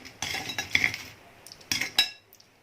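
Crispy Thai kalochi snacks, made with sesame, flour and peanuts, clatter onto a plate in a few separate clinking bursts, close and fairly quiet, with no talking.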